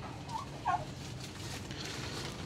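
Turkeys gobble on a farm, two short burbling calls, moderately close, over a steady low outdoor background with no voices.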